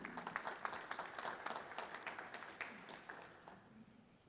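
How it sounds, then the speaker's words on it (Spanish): Faint, distant applause from the audience at the opening of an international artificial intelligence congress, scattered claps rising briefly then thinning out over a few seconds. "Por favor, un fuerte aplauso para el ingeniero Chi Cucalón"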